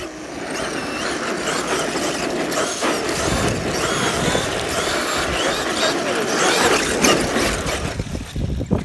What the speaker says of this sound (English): I want to do a high-speed drift